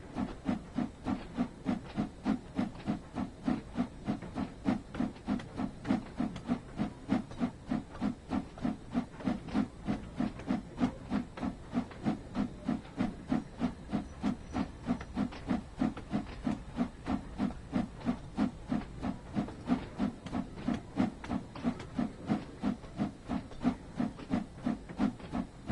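Steam locomotive in the Train Sim World 6 railway simulator, a modern-fitted steam engine, chuffing and hissing in a fast, steady, even rhythm that stays constant and fairly loud throughout, with no talk.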